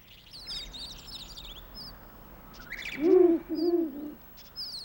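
An owl nesting by the Ungokcheon stream in early spring gives two low, resonant hoots close by, with scattered thin bird chirps in the quiet forest around it.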